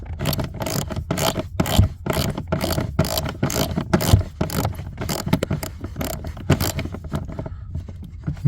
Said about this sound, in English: we can go ahead and loosen out these two screws here